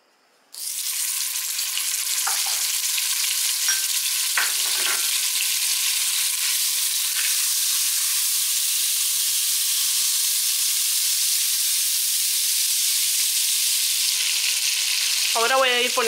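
Margarine sizzles steadily in hot oil in a pan for Guatemalan chicken with onions, a loud continuous frying hiss that starts abruptly and holds, with a few faint clinks and a scrape near the end.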